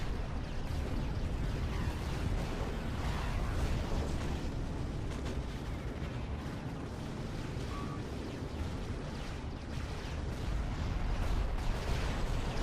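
A dense, continuous barrage of missile launches and explosions in a space strategy video game, rumbling booms and crackling blasts overlapping steadily without pause.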